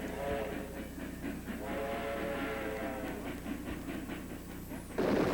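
A 1930s construction train hauls excavated gravel on rails toward a screening and washing plant, a steady rumble with rhythmic clacking of wagons, fairly faint and continuous, with a brief whistle-like tone near the end.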